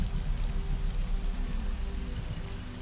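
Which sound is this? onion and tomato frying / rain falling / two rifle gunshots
rain falling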